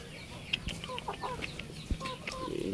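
Indio Gigante breeding hens roaming free in a garden cluck in short, irregular calls, some nearer and some farther off, over quiet outdoor background.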